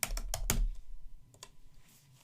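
Fingers tap out a quick burst of keystrokes on a computer keyboard, with several close clicks at the start, a couple more after a pause, then fading quiet.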